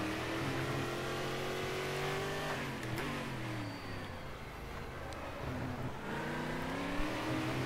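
Stock car engine in Game Stock Car 2013 at Velopark, revving steadily with rising and falling harmonic pitch, a loud continuous simulated racing drone alone throughout.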